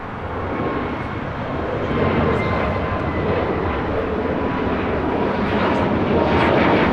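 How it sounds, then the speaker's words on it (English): A Viva Aerobus Airbus A321neo takes off from LAX bound for Monterrey, its engine roar broad, steady and loud, swelling slightly as it climbs, with no voices over it. "This is Viva Aerobus 623 taking off to Monterrey"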